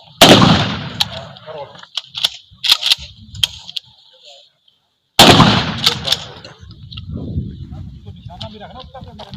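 Rifle shots during shooting practice from prone and standing positions ring out as several loud, sharp cracks with echoing tails, two heavy bursts spaced apart, with voices talking between them.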